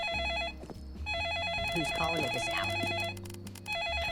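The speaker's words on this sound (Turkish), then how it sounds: "Kanka telefonun çalıyor." A phone rings inside the Roblox game The Sleepover Experience, with a repeating electronic ringtone pattern that keeps going through the clip. It plays loud and close over game music and other sounds.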